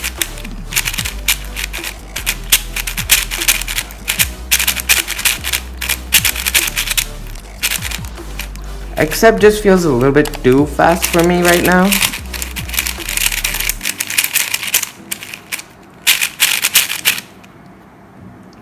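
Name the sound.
MGC 4x4 speed cube being turned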